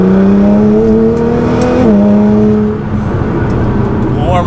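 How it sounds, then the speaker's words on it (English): Straight-piped stage 3 Nissan GT-R in race mode, its loud, close exhaust rising through a revving pull with a shift and then easing off, with a brief tire squeal and a voice speaking over it. "Have a little fun with the straight pipe stage 3 Nissan GT-R."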